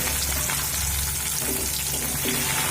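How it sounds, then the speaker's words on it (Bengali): Onions frying with dried chillies in a pan hiss continuously at close range, a dense, even sizzle with a few faint stirring scrapes. "দিয়ে পেঁয়াজটা এক থেকে দু মিনিট একটু ভাজা করে নেব"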